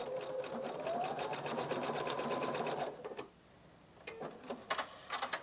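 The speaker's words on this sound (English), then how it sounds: "I'm going to go ahead and take a few stitches" Husqvarna Viking Designer Diamond 40 sewing machine running a blind hem stitch, a close rapid mechanical whir with a rhythmic needle ticking for about three seconds, then stopping into quiet with a few light clicks.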